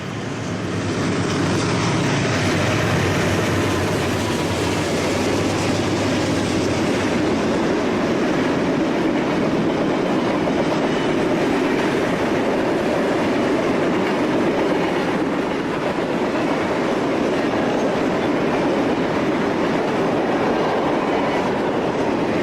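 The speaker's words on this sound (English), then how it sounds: "a long westbound PIBN from Pittsburgh rolls through Oak Harbor with 23 loads and 116 empties behind 2 new" Long westbound Conrail freight of 23 loads and 116 empties behind two new C40-8W wide-cab locomotives rolling through Oak Harbor, a loud continuous roar of passing cars with a steady rail rumble throughout.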